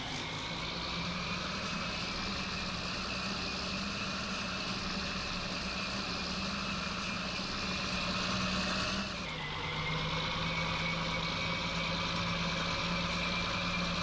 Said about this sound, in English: the more I listen to the sound on this tractor